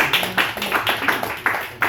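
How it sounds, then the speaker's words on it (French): Scattered hand clapping for accordion students at a master class, a small group's uneven, fairly close claps fading in and out over a couple of seconds. "Très bien, applaudissements."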